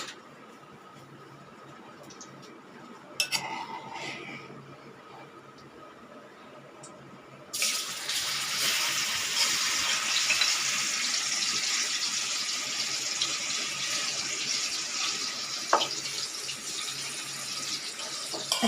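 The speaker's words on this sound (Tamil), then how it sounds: "இப்போ எண்ணெய் சூடாக இருந்தோம், இந்த பன்னீரை நம்ம இதில் போட்டுக்கலாம்." Paneer pieces dropped into hot oil in a pan: quiet at first with a few faint clinks, then a sudden burst of frying sizzle partway through that settles into a continuous hiss.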